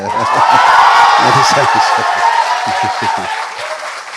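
An interview audience claps and cheers for actors Mohanlal and Prithviraj, a bright burst of applause with crowd voices that gradually thins while someone talks over it.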